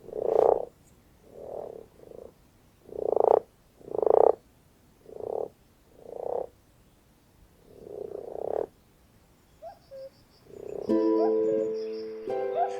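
At an alpine breeding pond, a frog gives about ten short, throaty croaks in an irregular rhythm, each close and clear with quiet gaps between, before music fades in at the end.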